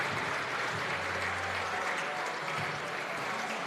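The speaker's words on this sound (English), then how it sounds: "we get a round of applause" Crowd in a gym applauds an injured player during a high school girls basketball game, a steady, moderately loud wash of clapping from the stands.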